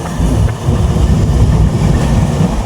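Sundarban Express passenger train running on its rails, a steady loud rumble with low clatter and rolling wheel noise throughout, no voices.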